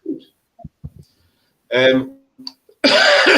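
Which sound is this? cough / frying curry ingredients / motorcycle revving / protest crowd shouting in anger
cough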